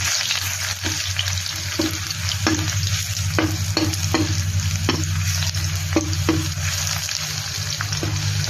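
Garlic frying in a pan to top blanched wontons, a dense continuous sizzle over a low hum, punctuated by regular sharp taps of a utensil stirring against the pan, no speech.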